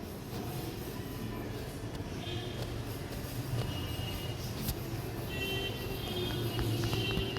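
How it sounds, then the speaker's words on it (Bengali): A train at Santahar railway station produces a steady low rumble and hum, moderately quiet and continuous, with faint higher squeals and clanks drifting in. "এটাই সেই সান্তাহার রেল স্টেশন"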